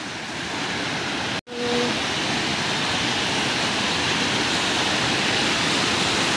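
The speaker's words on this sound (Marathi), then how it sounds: "तुम्हाला आता मी धबधब्याच्या जवळ जाऊन दाखवतो।" A village waterfall roars as a dense, constant rush of falling water, loud and close, broken only by a momentary dropout early on before the steady torrent resumes.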